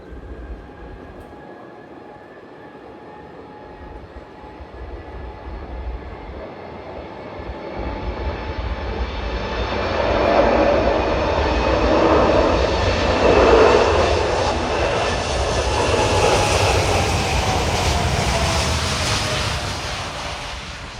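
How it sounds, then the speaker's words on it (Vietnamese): UPS Boeing 747-8F freighter taking off from Tan Son Nhat airport, a deep jet rumble that swells from moderate to loud with a rising whine, peaking midway and then easing slightly as it climbs away. "mời mọi người chiêm ngưỡng pha cất cánh của chiếc máy bay Boeing 747-8F này nha"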